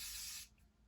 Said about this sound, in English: And then I go with the setting spray.